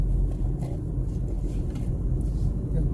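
A car driving along a road between the Woodlands and Conroe, with a steady low rumble of engine and road noise heard from inside throughout.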